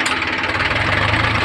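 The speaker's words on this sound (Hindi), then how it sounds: "रामेश्वर का ट्रैक्टर हो चुका है लोड" A loaded tractor engine idles steadily at close range with a continuous low rumble and faint knocking vibration, running alone without talk.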